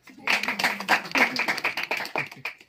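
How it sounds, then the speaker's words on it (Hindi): A congregation at a religious sermon gathering in Nandapur claps in a quick run of uneven, sharp hand claps, mixed with a voice speaking over them throughout. "आपण गोटे ताली मार"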